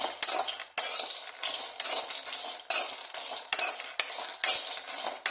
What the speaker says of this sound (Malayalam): നന്നായിട്ട് ഇളക്കി കൊടുക്കാം കേട്ടോ